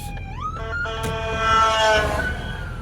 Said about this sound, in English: I hear some more sirens coming behind me